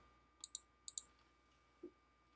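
Quiet, close mouse clicks on a web form's Submit button: two quick pairs of sharp clicks, followed a moment later by a softer, duller tap, in an otherwise hushed room.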